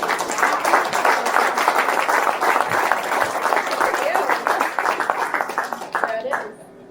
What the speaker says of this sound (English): Aust is going to round out the show here, so we'll clap it up for Aust.